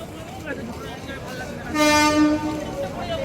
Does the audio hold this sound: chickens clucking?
no